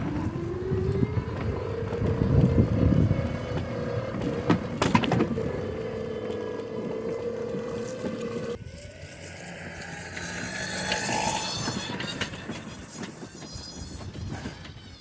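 A Ryobi electric zero-turn lawn mower starts up and drives off across a lawn, giving a steady close motor whine and hum that shifts in tone partway through as it moves away.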